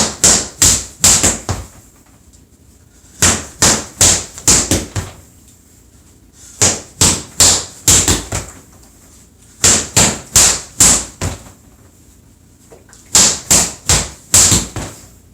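Impact weapon sticks crack sharply against training targets in loud, rapid bursts of four or five strikes, separated by short pauses, in a Filipino martial arts and combatives drill.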